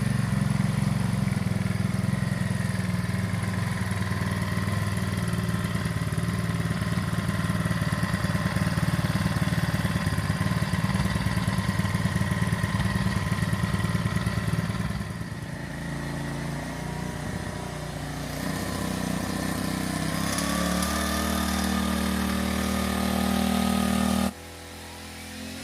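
A Makita brush cutter engine idles in a steady, close buzzing drone that drops slightly in level partway through, then shifts tone near the end before cutting lower.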